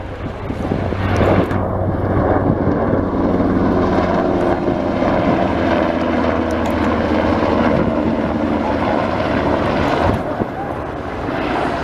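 German Army NH Industries NH-90 tactical transport helicopter flying a display at an airshow, a loud, steady rotor and turbine roar that fills the whole clip with a low throbbing beat, growing slightly as it passes.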